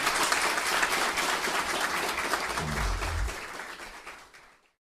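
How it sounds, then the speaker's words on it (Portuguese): Audience clapping after a lecture, a sustained round of applause at moderate volume that carries on steadily and then fades out quickly near the end, with a brief low thump partway through. "vamos aplaudir essa magnífica palestra"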